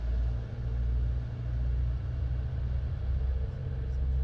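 A Sling 2 light aircraft engine running steadily at 2,000 RPM, a loud, even droning rumble heard close up from the cabin, with no other sounds on top.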